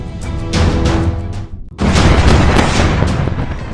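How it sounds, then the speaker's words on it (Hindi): Loud, rumbling blasts roar through an attack on the B1 bridge in Karaj, two long explosive bursts separated by a brief lull, with no voices. "करज के B1 ब्रिज पर हमला होते ही भयंकर विस्फोट हुआ"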